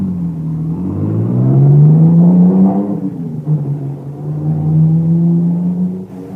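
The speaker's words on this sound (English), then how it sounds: "They all pile into the car and take off through the village, supposedly after me." A car engine in an old-time radio drama revs and pulls away, a loud whirring rumble that rises in pitch, dips, then holds steady as it drives off, with no voices.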